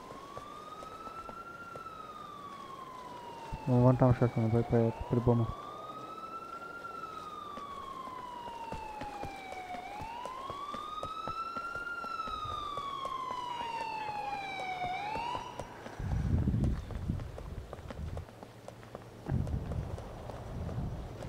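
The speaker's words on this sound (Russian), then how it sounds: "Так, я слушаю мою полицейскую машину." A wailing police car siren in the video game GTA 4, rising and falling in long sweeps for about fifteen seconds, with a short burst of horn-like clatter early on and someone speaking briefly over it.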